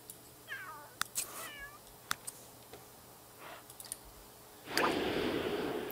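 A cat in The Sims 3 gives two short meows close up, followed by a few sharp clicks and then a burst of broadband noise toward the end.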